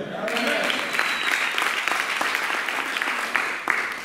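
A church congregation claps and cheers for the Lord, with dense sustained applause and scattered shouts that continue steadily at close range throughout.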